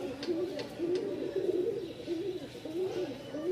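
A Kaldom pigeon at a pigeon market in Mirpur-1, Dhaka, coos in repeated rolling phrases, close and fairly loud over faint market noise.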